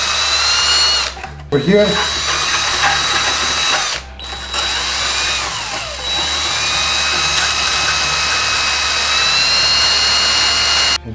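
A rotary power tool cuts and grinds into the plastic body frame of a WPL D12 1/10-scale RC drift car, a loud steady high-pitched whine that briefly stops and restarts, while someone speaks.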